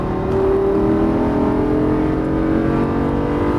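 A Lamborghini Gallardo with 530 hp at full throttle on a race track, its engine a loud, sustained roar that climbs in pitch as it accelerates, heard close and unbroken without speech.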